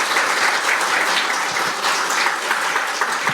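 An audience at a public forum on relocating public institutions to Busan bursts into dense, sustained applause, many hands clapping loudly and evenly for the whole stretch with no voices on top.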